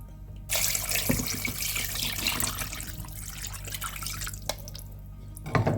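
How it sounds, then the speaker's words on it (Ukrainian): Cold water splashes and pours steadily into a pot of one kilogram of chicken gizzards, with a few clunks and drips as the flow eases toward the end. "Один кілограм гарно вимитих і зачищених шлуночків ми заливаємо холодною водою"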